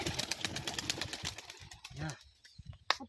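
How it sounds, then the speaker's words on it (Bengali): Tumbler pigeons released into the air, a burst of wing flaps and rustling, with dense fluttering early that thins out, a few sharp flaps near the end; voices talk in the background. "এই পায়রাগুলো হচ্ছে বাজি পায়রা, প্রচুর হাইট নেয়"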